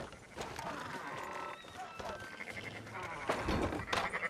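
Sheep in Red Dead Redemption 2 bleat in a wavering, repeated way while people talk over them, the calls rising and overlapping toward the end.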